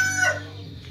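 A rooster crows nearby in a brief, loud, drawn-out call that fades quickly against a low background hum.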